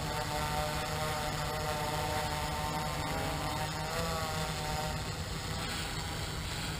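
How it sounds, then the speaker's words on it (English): A DJI F450 quadcopter drone, a heavy-lift build running large-capacity batteries in parallel, flies forward with a steady, continuous multi-rotor whine and buzz, close and sustained throughout, with no talk. "Send the aircraft forward a little bit."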